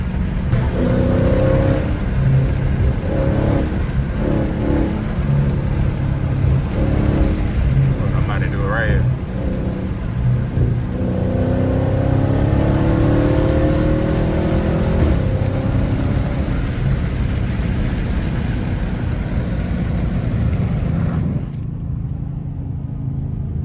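A Dodge 392 Scat Pack V8 on its stock intake revs loudly and up close in a sustained roar with rising and falling pitch, stopping abruptly near the end; talk can be heard under the engine.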